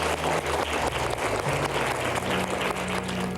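Cheerleader candidates at finals for the San Diego Chargers squad break into dense, sustained applause, loud and close, with a low musical hum running underneath.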